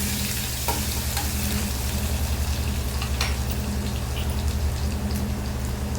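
Curry leaves, ginger and garlic sautéing in hot oil in a pan, a dense continuous sizzle and crackle with occasional sharper pops and stirring.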